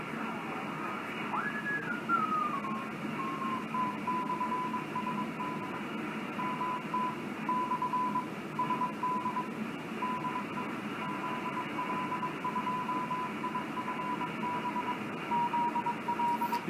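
A phase shift keying digital signal on the 24,890 amateur radio band plays as a thin, steady warbling tone over constant receiver hiss, with a brief gliding whistle near the start.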